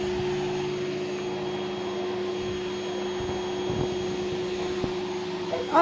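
A vacuum cleaner hoovers the floor indoors with a steady, loud, continuous motor whine and an occasional faint knock as the nozzle moves, and no one speaks.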